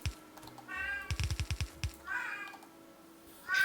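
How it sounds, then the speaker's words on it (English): A small grey kitten meows in a quick run of short, close cries, with longer drawn-out mews before and after and faint game-like sound underneath. "That I think is a little tiny miniature gray kitty named Maya."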